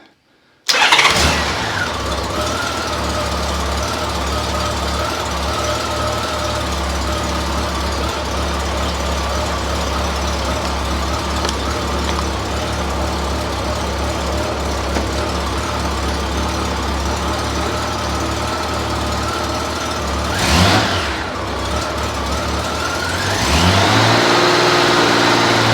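Honda GL1500 Goldwing engine cranking and catching after a coolant flush, then a steady, loud, close idle running smoothly for over twenty seconds with a slight rev and change in pitch near the end, no talk.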